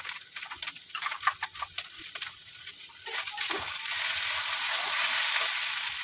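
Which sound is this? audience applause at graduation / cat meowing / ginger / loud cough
ginger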